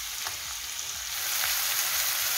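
Small pieces of bell pepper sizzle in a hot pan, a dense, even crackle heard up close that swells slightly midway, with a few soft clicks of a utensil and nobody talking.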